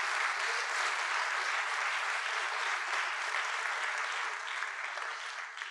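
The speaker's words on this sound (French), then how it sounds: "Et merci de vos applaudissements." A roomful of listeners applauds at the close of a French conference session on local authorities and climate change, a dense, even wash of clapping sustained throughout and easing slightly toward the end.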